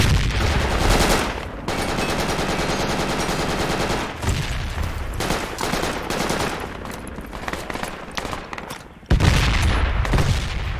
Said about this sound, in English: Frag the smoke, frag the smoke.